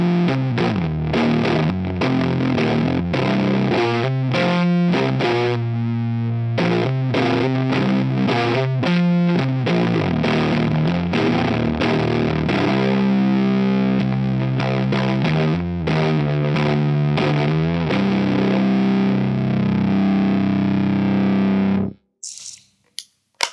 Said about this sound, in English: Pretty distorted fuzz sound, I'd say.